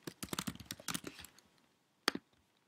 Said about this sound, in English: And if I type something,